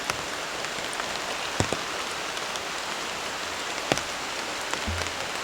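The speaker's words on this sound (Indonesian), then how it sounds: "Hujannya semakin besar" Heavy rain pours steadily at a camping site, a dense close hiss of drops with a few sharp taps and knocks scattered through it, no voices.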